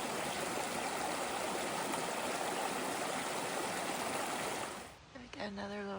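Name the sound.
river flowing at a trail river crossing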